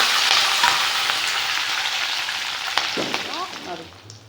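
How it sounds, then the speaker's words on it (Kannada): Okra and onions fry loudly in a pan with curry leaves for a dry curry, a strong hissing sizzle that slowly fades, a few stirring clicks, with brief voice-like sounds near the end. "ಬೆಂಡೆಕಾಯಿ ಚೆನ್ನಾಗಿ ಫ್ರೈ ಮಾಡಬೇಕು"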